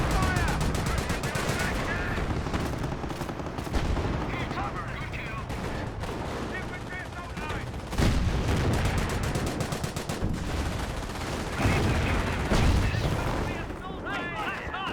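Company of Heroes battle with a 28 cm rocket barrage and gunfire: dense, continuous bursts of rapid gunfire and heavy booming blasts, layered and loud throughout, with a voice talking over the combat.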